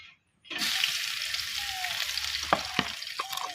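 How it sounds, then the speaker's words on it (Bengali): Chopped onions hit hot soybean oil in a wok after a brief silence, then give a loud, steady frying sizzle with occasional clinks from stirring. "এই দেখুন আমি পেঁয়াজ কিছুক্ষণ লাল লাল করে ভেজে নিচ্ছি"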